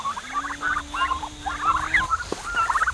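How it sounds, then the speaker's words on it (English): Turkeys gobble in repeated, bubbling bursts at moderate distance on a farm, with a steady low hum underneath and no talk. "All right, turkeys, it's time for bed."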